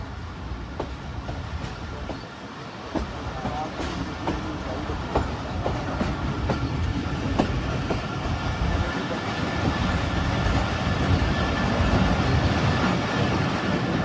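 The 115 UP Musa Pak Express rolls into Khanewal railway station with a steady, loud rumble of moving carriages, faint clickety-clack of wheels over rail joints and a continuous roar building slightly toward the end.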